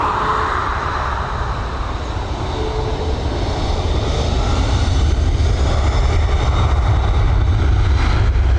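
Aer Lingus Airbus A330 jet engines roar at Dublin Airport beside runway 10R, a loud, sustained rumble with deep low-end power that holds steady and swells slightly as the aircraft passes.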